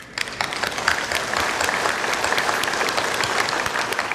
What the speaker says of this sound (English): Please give a big applause to welcome Dr. Nguyen Thầy Minh Gil.